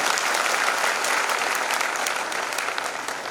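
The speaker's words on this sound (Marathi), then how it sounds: "आपण सगळ्यांनी एकदा प्रेमाने टाळी वाजवा महाराजांसाठी" Audience applause after a spiritual discourse by a swami in Satana, a dense, steady roar of many hands clapping throughout, fairly loud and unbroken.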